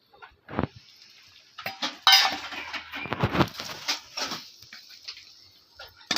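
Cooked mutton for a festival-style dry and gravy preparation is moved into a dish with clinks and scrapes of a utensil against the pot, uneven handling knocks and soft shuffling, close and moderately loud, no talking.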